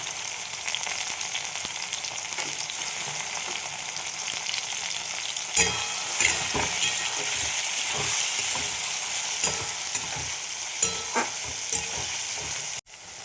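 Curry leaves and peas frying in hot oil in a pan, a continuous bright sizzle that surges sharply midway as the leaves hit the oil, with repeated scraping stirs of a spatula and no talking.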